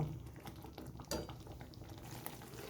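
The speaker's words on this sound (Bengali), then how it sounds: "এইভাবে আরও কিছুক্ষণ আমি ফুটিয়ে নেব" Tomato pickle simmers in a pot on the stove. It gives a soft, steady bubbling and sizzling, faint and close, with a brief clink near the middle, and no voices.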